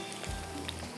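Small kebabs fry in a pan, a steady close hiss of oil and soft spattering pops throughout, fairly quiet and without talk.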